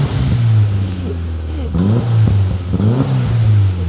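A Volkswagen engine blips through a newly fitted exhaust in a few sharp revs. Each rev swells and falls back to a deep, burbling idle, loud and close, and a voice is faintly present.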